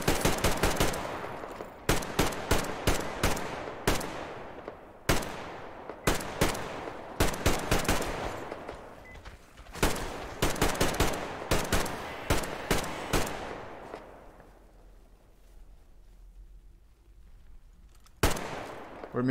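Rapid bursts of gunfire in the video game Metro Exodus crack out in quick automatic volleys, loud and close, pausing briefly between strings of shots before a final burst.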